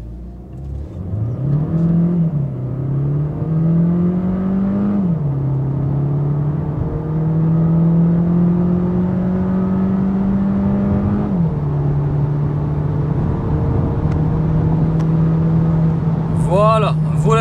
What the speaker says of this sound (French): va se mettre en mode sport et faire une petite performance, une petite accélération 0 à 130